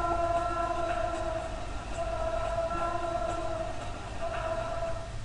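A moving train rolls past near a crossing in Sunnyvale, California, with a continuous loud rumble and steady metallic tonal whine that holds for the whole stretch, rising slightly in bursts.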